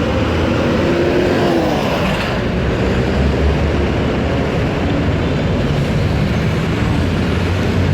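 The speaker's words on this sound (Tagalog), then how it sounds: "So ayan po yung mga truck, oh." Heavy trucks roar past on an elevated skyway, a loud, continuous rumble of traffic close by with a steady low drone and no gaps.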